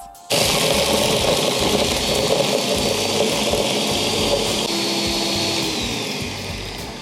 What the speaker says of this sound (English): let's go ahead and blend that up and see how it looks